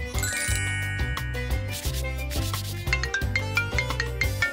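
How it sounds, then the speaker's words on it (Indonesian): A mobile phone rings with a bright, tinkling electronic melody that plays continuously over a steady low backing, loud and close, with no talking. "HP-ku bunyi ya?"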